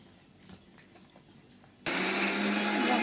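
A mixer grinder starts abruptly partway through and grinds chutney for a gravy, a loud, steady whirring roar that runs to the end after a quiet stretch of faint kitchen clatter.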